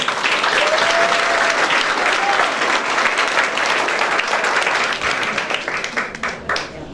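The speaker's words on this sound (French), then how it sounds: "Mesdames et messieurs, on acclame." Guests at a wedding ceremony burst into sustained applause after the marriage certificate is handed over, a dense crowd clapping loudly before it tapers off.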